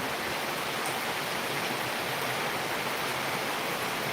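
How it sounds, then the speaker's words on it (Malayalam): Heavy monsoon rain pours down in Palakkad, a dense, unbroken roar of falling water that stays loud and even from start to finish, with no voices. "കേൾക്കുന്നുണ്ടാണോ മഴ പെയ്യല്ലേ"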